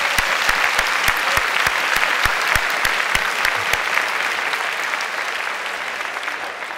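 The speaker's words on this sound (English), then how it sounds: "So let's give her another big round of applause." A big round of audience applause at an education presentation, loud continuous clapping from a crowd with sharp individual claps standing out, sustained across the whole span and easing slightly toward the end.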